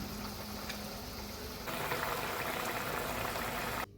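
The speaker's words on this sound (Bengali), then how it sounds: "না না, ঝোলটা ফুটে গেছে, এবার ভেজে রাখা মাছটা দিয়ে দিব।" Fish curry broth bubbling in a pot, a steady close wash of boiling liquid that swells louder halfway through and cuts off abruptly near the end.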